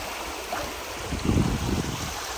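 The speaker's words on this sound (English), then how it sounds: "This is a really pretty spot just to sit and relax, listen to the water." Water flows at Ha Ha Tonka Spring, a soft steady murmur with a slightly louder gurgling swell midway, heard alone.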